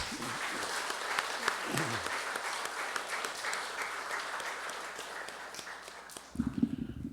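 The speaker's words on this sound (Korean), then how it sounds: "귀한 말씀을 주신 참 아버님께 박수를" Applause from a congregation at a religious ceremony in a temple in Yilan, Taiwan, sustained at moderate distance with some voices mixed in, fading before a short louder burst near the end.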